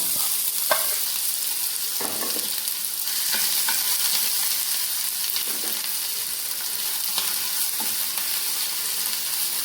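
Chopped ginger sizzles steadily in hot oil for garlic pickle, a continuous bright frying hiss with occasional stirring scrapes and clinks, close and alone with no voices.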